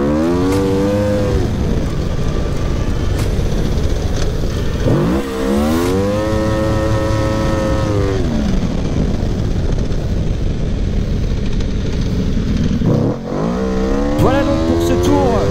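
Drift car engine revving hard and climbing through second and then third gear, with rising harmonic sweeps, a brief dip at each shift, and loud, continuous roar close by.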